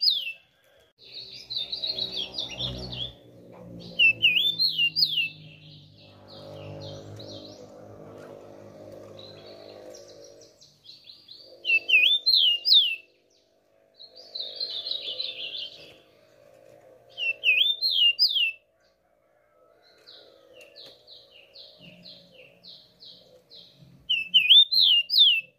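A tico-tico, or rufous-collared sparrow, sings short, bright, clear phrases in repeated bursts with pauses between, close by, over a faint low rumble of background noise.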